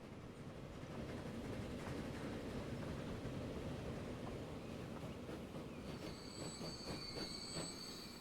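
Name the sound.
freight train running, from a video game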